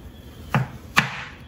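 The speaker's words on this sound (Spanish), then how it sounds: "voy a picar la cebolla." A knife chops an onion on a cutting board with two sharp, close thuds about half a second apart, each a short crisp strike against the board in an otherwise quiet kitchen.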